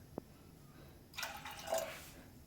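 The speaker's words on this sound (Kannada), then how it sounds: "ಸ್ವಲ್ಪ ನೀರು ಹಾಕೊಳ್ಳೋಣ" Water is poured into a pressure cooker holding washed moong dal for payasa: after a single small tap, a brief splashing pour rises and fades, fairly faint and close.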